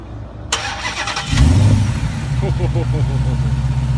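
A Dodge Challenger SRT Hellcat engine cranks and fires up with a loud deep roar, then settles into a rumbling, loping idle close by.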